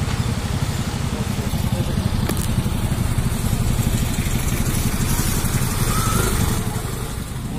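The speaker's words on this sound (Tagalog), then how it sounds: "At tayo naman magpunta sa test drive ng Mio Soul" A Yamaha Mio Soul i125S scooter engine runs steadily on a test drive, a continuous close low drone with a rough, pulsing rumble that holds at a fairly even level throughout.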